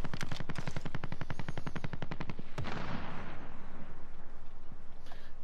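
Rapid automatic fire from two guns with heavy recoil in a video game, a loud, tightly spaced burst of rattling shots for about two seconds, then a final bang and a rumbling echo trailing away.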